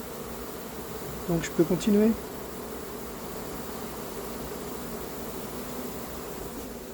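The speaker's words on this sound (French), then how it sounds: "J'ai versé un paquet d'abeilles sur la planche" A swarm of honeybees gathers on a board at the entrance of a hive, their steady buzzing a soft continuous drone throughout, with a few brief louder thumps and a short spoken remark near the start.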